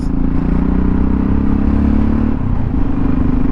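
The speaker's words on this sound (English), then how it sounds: "So the bike is moving, not really stable." A motorcycle is ridden over a bumpy, uneven road in Turkey, with a loud steady engine drone close to the microphone, rattling and clatter from the rough surface, and a slight shift in engine note partway through.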